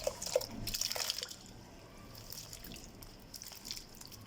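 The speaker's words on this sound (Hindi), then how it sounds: "एक बार फिर मैं स्ट्रॉबेरी को पानी में डालूँगी" Strawberries drop into a bowl of fresh water, giving a few soft splashes and drips up close in the first second or so, then only a faint trickle and quiet room noise.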